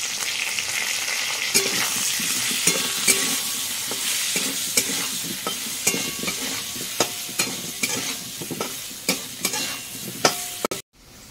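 Spices and potatoes for chicken curry sizzle steadily in a pan, broken by frequent scraping clicks as a utensil stirs and knocks against the metal. The sound is close and busy, with no talking.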